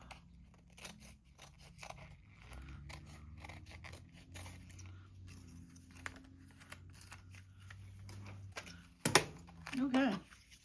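Scissors snip through a clear plastic sticker sheet, a quick cluster of sharp cuts near the end after a stretch of quiet handling noise, with a soft voice speaking at times.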